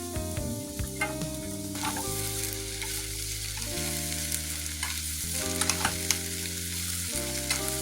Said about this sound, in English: Now I'm adding the garlic, peppers and onion.